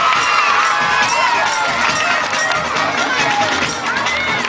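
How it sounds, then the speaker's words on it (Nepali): A large outdoor crowd at a village gathering in Motipur, Kapilvastu, cheers, shouts and applauds loudly and continuously in honor of the chief guest, with children's voices mixed in. "एकपटक जोरदार तालीले उहाँलाई सम्मान गरौँ।"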